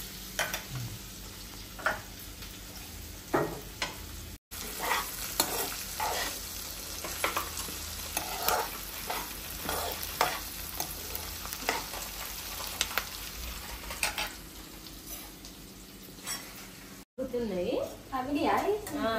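Green chillies, curry leaves and mint cooking in a pan for nalleru chutney give a steady close sizzle with intermittent stirring scrapes, while a voice talks over parts of it.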